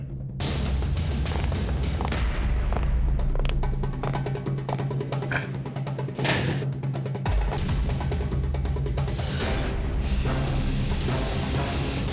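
A steady, continuous hiss of spray runs through most of the clip over a low background hum, with a brief louder burst near the end.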